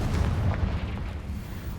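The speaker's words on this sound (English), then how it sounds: "Confringo." A Confringo fire spell exploding in Hogwarts Legacy during a castle assault: a short, deep boom with a rumbling burst at the start that fades into low, muffled rumble.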